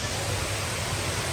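Waterfall at night at Expo 2020, a steady, dense broadband rush of falling water that stays even and continuous throughout, with no voices over it.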